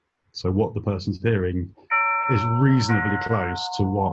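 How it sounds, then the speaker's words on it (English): A doorbell chimes with steady sustained tones through the second half, sounding alongside continuous conversational talk during an online webinar. "sorry, that's my doorbell"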